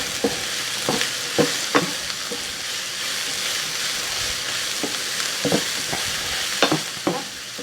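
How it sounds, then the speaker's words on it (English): Onions and mushrooms sizzle steadily in a frying pan while a utensil stirs them, with a series of sharp scraping strokes over the constant hiss. "I'm going to give it a stir."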